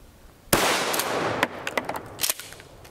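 12 gauge shotgun firing NobelSport 00 buckshot 2.25-inch mini shells outdoors, one sharp loud blast followed by a string of echoing cracks and clatter.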